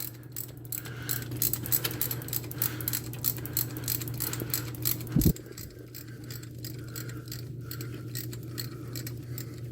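Hand ratchet clicking and metal tools working on a starter bolt of a 2001 Honda Prelude in a home garage, rapid pawl clicks and light metallic clinks, close and fairly quiet, with one brief clunk midway.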